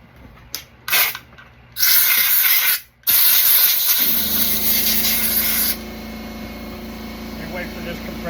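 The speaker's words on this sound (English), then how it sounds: "Wait for this compressor to turn off." Air compressor running, a steady mechanical drone that takes over partway through after several loud bursts of spraying air, continuing through to the end.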